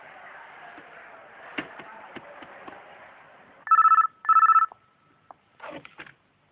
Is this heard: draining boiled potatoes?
no